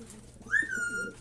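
A single pigeon or dove gives a short, clear coo call close by, rising then holding steady before fading, over quiet background noise.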